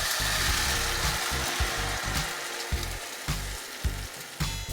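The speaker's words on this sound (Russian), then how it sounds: "Отправляем омлет на сковороду." Omelet mixture hits a hot pan and sizzles steadily, with a low, pulsing burner hum underneath and occasional soft clicks.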